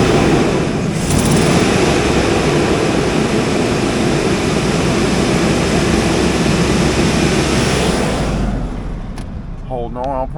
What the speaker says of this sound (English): Let you listen to the motor